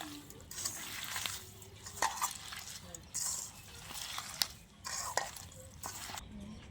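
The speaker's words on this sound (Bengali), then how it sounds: "এবার চিনি আর লবণ দিয়ে আগে আমটাকে ভালো করে মেখে নেব" Mango pieces worked by hand with sugar and salt in a bowl, making repeated wet squishing and rubbing bursts in an irregular rhythm, close and moderately loud.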